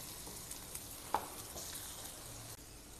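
Beaten egg fries gently in a pan over lowered flame for egg paratha, a soft, steady sizzle with a faint clink or two, quiet and close.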